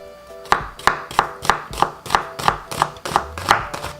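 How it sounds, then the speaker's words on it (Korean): A knife cuts an onion into fine thin strips on a cutting board for a Korean bellflower-shoot salad: about ten crisp, evenly spaced chops close and clear, with no talk. "양파한 곱게 채쳐주세요"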